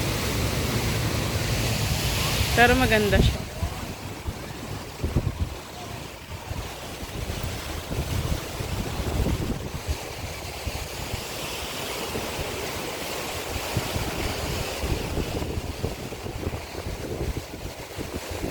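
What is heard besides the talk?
strong ocean waves at a beach resort in Mindoro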